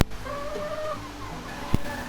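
Free-range laying hens cluck and murmur close by in a steady, overlapping chatter, with one sharp louder squawk near the end and no talking.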